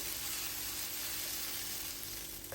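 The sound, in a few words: peppers frying in a little oil in a pan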